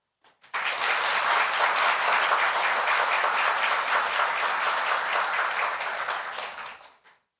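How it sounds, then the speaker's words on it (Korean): An audience at a traffic safety forum breaks into sustained, dense applause that starts abruptly, holds steady for about six seconds, then tapers off. "힘찬 박수 감사합니다"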